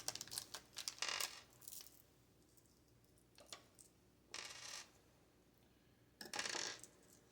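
A plastic bag holding four small screws for a Thermalright Phantom Spirit 120 CPU air cooler is handled and torn open, with several sharp crinkling bursts and light rattles separated by quiet gaps.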